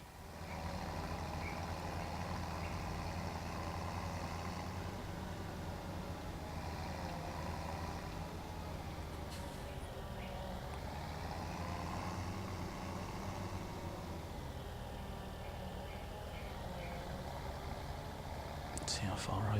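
A Case tractor's engine drones steadily in Farming Simulator 17 as it drives up to a feed trough, with a continuous mid-level rumble running beneath ongoing talk.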